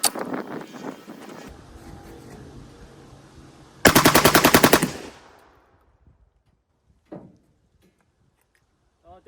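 A 12-gauge shotgun mounted on an M60 rig fires a fast, loud burst of about ten close shots at targets, then a lull with a couple of faint later sounds.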